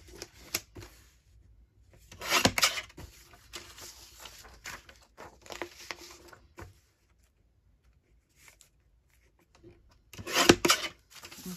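Paper being trimmed along its edge for library card pockets, a few short scraping and cutting strokes in separate bursts with quiet gaps between, close and fairly soft.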